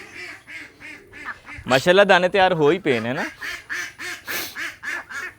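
Ducks on a farm quack loudly in a rapid burst of overlapping calls, with someone talking before and after and quieter quacks continuing under his voice.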